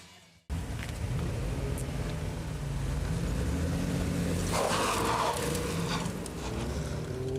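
A car with a 3.2-litre straight-six engine drives past, its engine a steady close drone that swells into a louder rush midway before easing slightly, with no talking.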